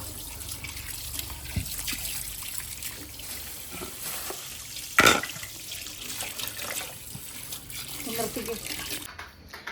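Tap water runs steadily into a home kitchen sink to soak frozen meat, a continuous close splashing with a single sharp knock partway through, and faint speech now and then beneath it.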